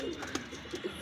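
Semi-adult white Kamagar pigeons coo softly in short, repeated low murmurs, close by and with no voices over them.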